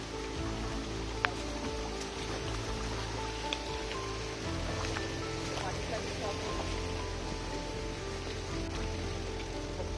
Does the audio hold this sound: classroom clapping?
no